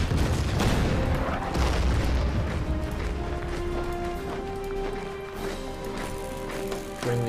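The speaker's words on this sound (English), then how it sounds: "Use the artillery." Artillery fire in the strategy game Order of Battle: Winter War, a deep rumbling boom that rolls on and slowly fades under a steady game soundtrack.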